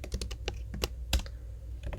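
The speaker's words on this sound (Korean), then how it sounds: "엔터 치면" Computer keys are tapped on a keyboard, including the Enter key, giving a series of crisp, close clicks in an uneven rhythm with one heavier press standing out.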